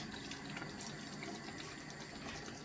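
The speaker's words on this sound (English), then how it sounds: "Add 1 cup of water." A cup of water is poured into a simmering chicken xacuti, a Goan coconut curry. The stream makes a steady, close splashing and trickling that runs evenly for a few seconds with no talking.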